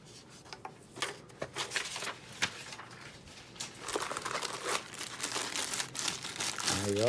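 Paper packaging from a Caavo Control Center universal remote is handled and crinkled up close, producing irregular bursts of crisp rustling and crackling that grow busier and louder toward the end.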